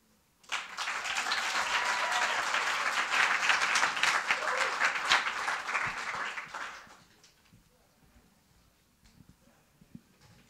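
A poetry recitation audience at a state finals claps in sustained, dense applause for about six seconds, then it trails off into quiet room noise with a faint stray sound near the end.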